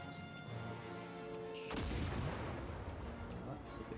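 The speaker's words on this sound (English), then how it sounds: "That's a big explosion." A loud boom from a Star Wars Jedi: Fallen Order game explosion bursts in partway through, over a continuous game music and ambience bed, then leaves a rumbling tail.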